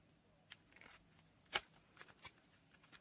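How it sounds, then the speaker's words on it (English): Scissors snip through the soft cover of a handmade mini journal, a few short crisp cuts spaced irregularly and heard close up in a quiet room, with no talking. "I'm going to cut it off with scissors"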